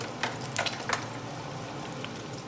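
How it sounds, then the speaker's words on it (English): Chicken flautas deep frying in hot oil, a steady low hiss and bubbling with a few brief louder sizzling pops near the start, fairly quiet and close, no talking. "So we are going to deep fry them."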